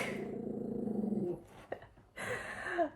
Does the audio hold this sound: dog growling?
yes